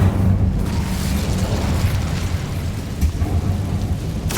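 An Incendio fire spell cast in Hogwarts Legacy gives a loud, continuous roaring, crackling burst of flame that fills the whole stretch with dense rumbling noise.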